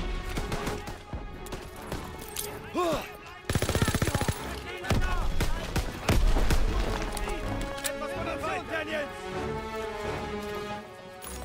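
Gunfire in the World War II shooter Call of Duty WWII, Operation Cobra mission: sharp rapid bursts and single shots, some rattling like automatic fire, scattered irregularly over a busy battle soundscape, moderately loud.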